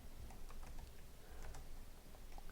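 Quiet, rapid clicking of computer keyboard keys in uneven bursts, close but soft over a steady background hiss, with no voices.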